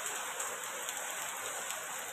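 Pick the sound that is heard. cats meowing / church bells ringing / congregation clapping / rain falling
rain falling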